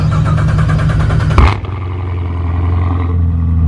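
A 650-horsepower Corvette Z06 with an aftermarket exhaust cold-starting, a loud close roar that settles into a deep, rumbling high idle.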